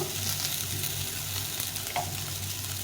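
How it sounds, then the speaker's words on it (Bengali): Fried drumsticks, eggplant and potato pieces hit a hot pan of oil and sizzle steadily, with a constant close frying hiss and light stirring sounds, no voices. "এই সজনে ডাটা বেগুন আলুগুলো ভেজে নিয়েছি এখন এর মধ্যে দেব"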